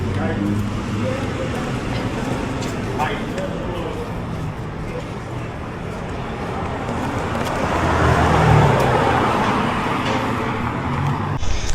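Japanese cars such as Hondas and Toyotas pass through the streets of Roseau, Dominica, as a dense, continuous wash of traffic noise that swells toward the end, with people talking and background chatter mixed in.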